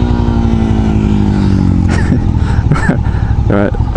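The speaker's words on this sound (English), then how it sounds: "Now, this is a 650 cruiser, mind you." A Hyosung GV650 Aquila 650 cruiser motorcycle engine runs loud and steady up close, its droning tone sliding slightly, with voices talking over it.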